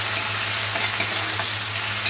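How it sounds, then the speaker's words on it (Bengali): Sliced onions and a small tomato cut into long strips fry in hot oil in a pan, giving a steady, close, crackling sizzle with a few brief stirring clicks and no talking. "পেঁয়াজটা ভাজা ভাজা হয়ে গেলে একটু দিয়ে দেবো টমেটো"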